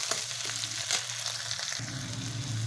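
Tomatoes and onions sizzle and fry in a hot pan, a steady crackling hiss broken by a few soft scraping stirs, close and continuous with no talking.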